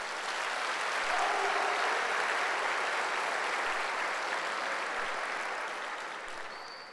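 Sustained applause from a church congregation at a Sunday service, a thick even wash of many hands clapping that holds steady for several seconds, then eases off toward the end.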